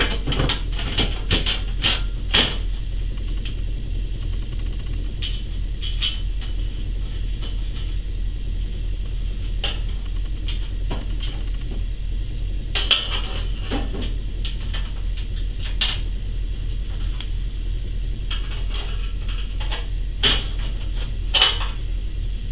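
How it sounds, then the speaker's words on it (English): Metal side cover being refitted onto a pellet stove, with scattered sharp clanks and taps of sheet metal over a steady low hum from the running stove. "we're going to put our side cover back on"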